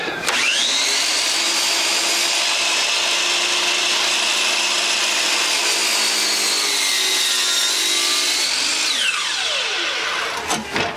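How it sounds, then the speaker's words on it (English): A 12-inch DeWalt compound sliding miter saw cuts through wood, its loud, steady whine holding for about nine seconds before the blade spins down, close and with no talking. "This is a 12-inch, a 12-inch DeWalt compound sliding miter saw"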